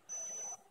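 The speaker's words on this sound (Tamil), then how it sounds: "இந்த அலாரம் சவுண்டு கேட்டோன்னே ரெக்கார்ட் ஆஃப் பண்ணணும்" A digital thermometer's alarm gives a single short, high, pure electronic beep, faint and alone, lasting about half a second.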